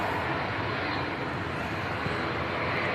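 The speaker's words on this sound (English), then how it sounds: "Heavy TUI Dreamliner." Heavy TUI Boeing Dreamliner jet at Manchester Airport, giving off a steady, broadband roar of engine noise that holds at an even level throughout with no talk.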